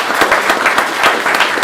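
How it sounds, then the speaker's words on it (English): A school board meeting audience applauds the tennis team, a short burst of loud, dense clapping from a crowd in a room, with no pauses. "So just a round of applause for an awesome year."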